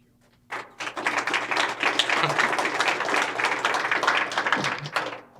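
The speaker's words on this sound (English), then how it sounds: "There was some hesitation on the clapping because it's mainly city staff here today" City staff at a civic event on Alberta's potato industry give a round of applause, starting abruptly and sustained for about five seconds of dense, fairly loud clapping before fading.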